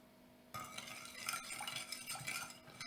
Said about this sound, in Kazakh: Ерігенше араластырамыз.